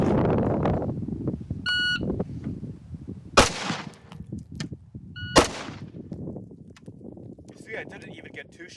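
Shot timer beep followed by a GBRS Hydra rifle firing during a timed drill: two sharp tonal beeps each trailed closely by a loud, abrupt gunshot, with quieter shuffling and background noise between.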